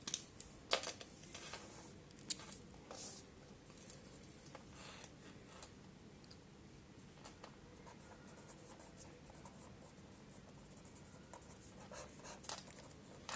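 Pen or marker strokes scratch faintly while a math solution for a complex variables lecture is written out, with intermittent short scrapes and taps over a quiet room hum and no talking.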